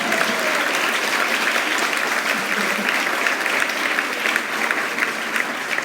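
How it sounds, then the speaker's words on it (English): An audience at a school graduation ceremony applauds steadily, a dense wash of many hands clapping that holds at an even level for several seconds. "let's give her a round of applause for that"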